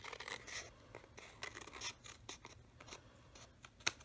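Sharp scissors snip and trim along the edge of a paper tag in short, quiet, close cuts with small rustles between them, alone and faint.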